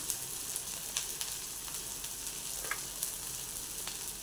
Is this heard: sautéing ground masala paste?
yes